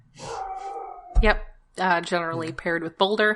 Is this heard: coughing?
no